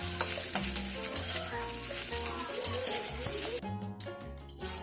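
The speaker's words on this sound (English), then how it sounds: "we'll let that fry here so we get a nice color to the rice. Brown just a little bit." Ham fried rice browns in a pan, a frying hiss and stirring scrapes heard under prominent background music, with the sizzle cutting out briefly near the end.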